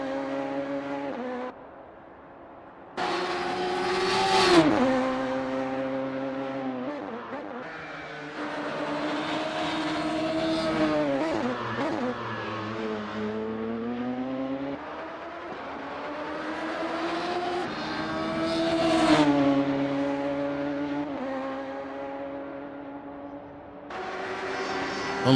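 Radical SR3 race car on an outlap at Road Atlanta in the Assetto Corsa game, its engine whining and revving through repeated upshifts and downshifts, with brief cuts and sustained high-pitched drones, loud and continuous for the whole run.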